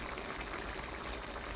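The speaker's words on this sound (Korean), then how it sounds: "더 보글보글 졸이면 국물까지 맛있는 닭볶음탕 완성!" Spicy Korean braised chicken stew with potatoes simmering down in its pot, a steady soft bubbling hiss that carries on evenly without pause.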